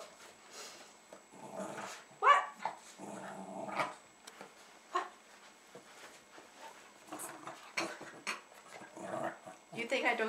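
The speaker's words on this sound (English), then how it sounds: "Are you going to speak, Jasper?" Jack Russell terrier growling and giving short barks while begging for vinegar chips indoors, with intermittent close-up yips and grumbles mixed among people talking.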